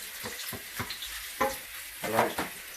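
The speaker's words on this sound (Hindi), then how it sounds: "तो ये हम इसके अंदर फ्राई करेंगे" Sliced potatoes fry in hot oil with a steady broadband sizzle, broken by a few louder stirring scrapes and bursts near the pan; no talking.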